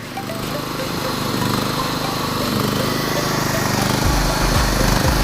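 A used 6.5 kW generator powering a welder runs at a loud, steady engine drone, with a few low thumps near the end and a voice talking over it.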